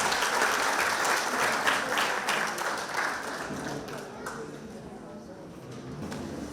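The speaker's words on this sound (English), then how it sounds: "So I want you all to give a big round of applause." Loud, sustained audience applause for a bluegrass band at a variety night, a dense clapping crowd that eases off gradually toward the end.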